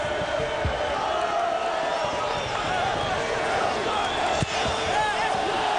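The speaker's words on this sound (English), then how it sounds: "Beckham is serenaded by the crowd" Stadium crowd at the LA Galaxy v Houston Dynamo MLS Cup Final singing and chanting for David Beckham, a continuous, dense roar of massed voices under nearby commentary talk.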